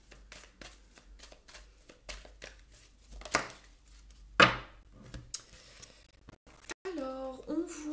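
Tarot cards shuffled and drawn by hand, giving a run of soft, rapid riffling flicks and taps up close, with a sharper slap of a card partway through and a brief voiced moment near the end.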